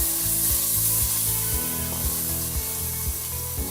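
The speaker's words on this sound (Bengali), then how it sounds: "এখন আমি মশলাটাকে ভালোভাবে একটু কষিয়ে নিব।" Spice paste for a Bangladeshi beef curry frying over medium heat in a pan, a steady close sizzle with soft rhythmic scraping and stirring strokes throughout, no voices.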